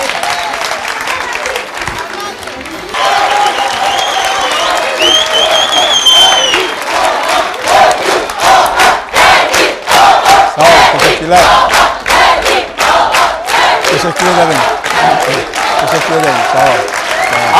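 Turkish television studio audience applauding and cheering for a folk singer, a loud sustained wash of clapping with shouts, surging after a quieter opening and staying dense to the end.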